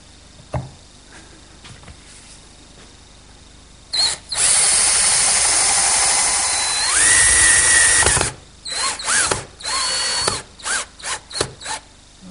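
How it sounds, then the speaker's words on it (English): A power drill pre-drilling screw holes in a Queen Anne table whirs in several bursts: one long sustained run, then a string of short stop-start pulses as the motor spins up and winds down, close by. "And I'll pre-drill for the screws and secure it."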